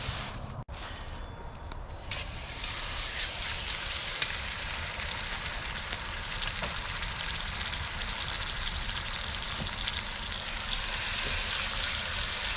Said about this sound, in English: Okay, now it's time to sear this roast.